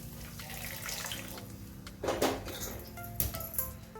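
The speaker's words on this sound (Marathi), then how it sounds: "तर यामध्ये थोडंसं पाणी घालूया गरम पाणी घालूया" Hot water is poured into a pan of red chilli masala frying for fish curry, a brief splashing gush following quiet kitchen hiss.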